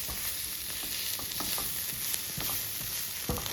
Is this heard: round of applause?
no